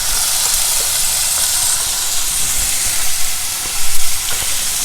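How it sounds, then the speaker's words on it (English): Chopped vegetables hit hot oil in a pan for biryani gravy, throwing off a loud, constant sizzling hiss with a few bubbling surges near the end. "Add the chopped vegetables to it."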